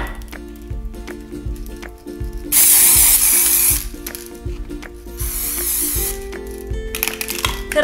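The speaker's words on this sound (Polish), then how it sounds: "najpierw spsikam cały wazon farbą w sprayu, właściwie brokatem." Glitter spray paint hisses from an aerosol can onto a glass vase in two loud sustained bursts of about a second each, with a gap between them, close to the mic and with no talking.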